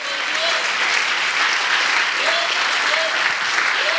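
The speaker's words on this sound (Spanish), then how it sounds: "¿Cuánto le damos un aplauso al Señor?" A church congregation breaks into sustained applause in praise of the Lord, dense steady clapping filling the hall for several seconds, with faint voices calling out over it.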